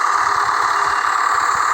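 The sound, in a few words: passing car engine in an audio driving video game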